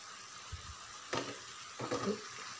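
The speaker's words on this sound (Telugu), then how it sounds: "ఇంకా మంచిగా కలుపుకుంటూ స్టవ్ మీడియం ఫ్లేమ్లో పెట్టి ఫ్రై కానివ్వాలి" Amaranth leaves fry over a medium flame in a pan, giving a soft steady sizzle broken by a few louder bursts of stirring and scraping, close by with no talk.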